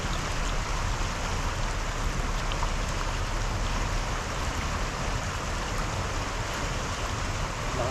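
Strong river current from the mountains rushing past a fishing spot, a dense, steady, loud roar of water that continues unbroken without pause.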